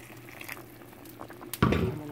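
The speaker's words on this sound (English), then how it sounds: "20 minutes later, my oxtail is still boiling up" Jamaican oxtail simmers in water in a covered pot, a soft steady bubbling at low level that swells into a louder burst of rolling boil near the end.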